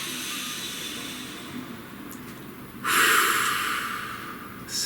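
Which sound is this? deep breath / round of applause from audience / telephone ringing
deep breath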